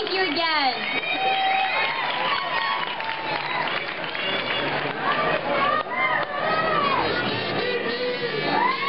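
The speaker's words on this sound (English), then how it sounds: "go ahead and give a round of applause" Applause and cheering from a crowd at a trophy girl contest during a racing event, sustained and dense for the whole stretch, with shouts and whoops rising above the clapping and voices mixed throughout.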